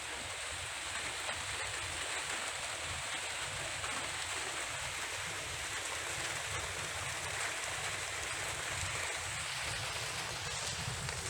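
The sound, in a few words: heavy rain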